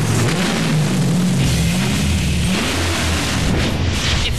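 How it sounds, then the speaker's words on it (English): Hemi engine revving: a loud, deep, rumbling roar that surges and falls in pitch over a few seconds, with no talk. "There's nothing like the sound of a true Hemi."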